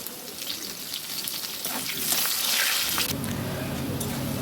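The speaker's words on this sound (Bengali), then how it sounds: "এখন আলুটা ভালোভাবে ভেজে নেব" Salted potato pieces frying in hot oil for a fish curry give a steady, close sizzling hiss that swells slightly midway and continues without pause, with no voices.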